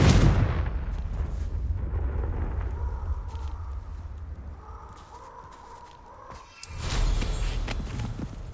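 The Confringo blasting spell goes off in Hogwarts Legacy as a loud, rumbling burst at the start. A low roar sustains under it, then a second sharp blast erupts near the end.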